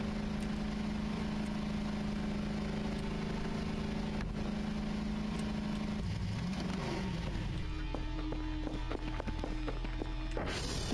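A Porsche engine running in the game Voices of the Void, a steady droning hum that shifts pitch and rumbles lower midway, with rattling clicks toward the end.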